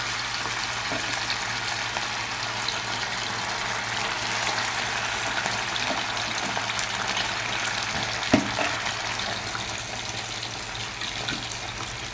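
Chicken fries in hot oil with a steady, dense sizzle that holds level for about twelve seconds, broken only by an occasional faint clink, with no voices.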